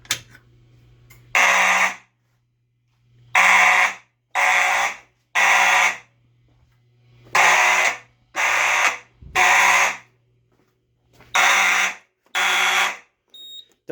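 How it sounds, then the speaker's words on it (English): A shed fire alarm system, set off from a pull station, blares loud harsh bursts of roughly a second each in an irregular on-off pattern, with a low steady hum beneath and brief pauses between. "Let's go ahead and trigger this pull station over here"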